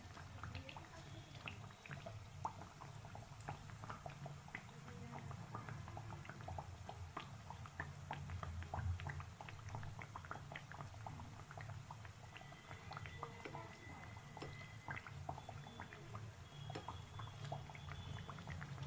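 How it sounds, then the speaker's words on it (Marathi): Matar kachori bubbling and sizzling in hot oil, a steady, quiet crackle of frying that continues on its own throughout. "याला थोडंसं लालसर रंग येईपर्यंत आपल्याला याला तळून घ्यायचं आहे."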